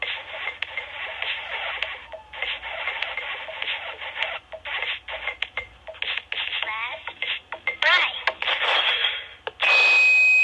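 Friday Night Funkin' video game over sound played through a walkie-talkie, coming across as a thin, bandlimited, crackly electronic jingle with squelchy bursts and a harsh tone at the end, with talk now and then.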